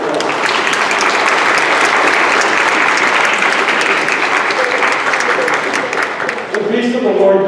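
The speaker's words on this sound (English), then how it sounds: "Put the next round of applause." A church congregation breaks into loud, sustained applause during a worship service, thick clapping at steady strength that tapers briefly near the end as a voice and music begin to come in.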